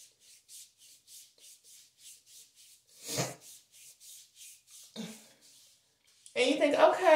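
Champagne Wishes body lotion being rubbed between the hands: a rhythmic series of soft, close swishing strokes, with someone speaking briefly in between and at the end.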